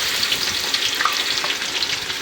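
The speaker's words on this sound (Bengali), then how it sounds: "এই যে বাদামগুলো আগে একটু ভাজাতে নেবো আমি ঘির ভিতর থেকে" Nuts fry in pure ghee in a village kitchen, giving a close, steady, bubbling sizzle with small crackles throughout and no voices.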